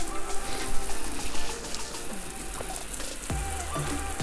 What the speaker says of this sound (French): Je suis en train de rincer à fond.